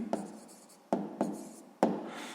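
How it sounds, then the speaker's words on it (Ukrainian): Pen strokes writing out an answer by hand, four short scratchy bursts at an uneven pace, close and fairly quiet, with no one speaking. "Ну що ж, записуємо відповідь."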